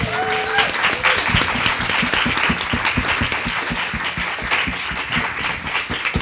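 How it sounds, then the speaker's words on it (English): Audience applause for panelists at a MoMA Art + Feminism event, steady dense clapping from a crowd throughout, loud and sustained with a brief tonal sound near the start. "I want to give a really big round of applause for the Art and Feminism team"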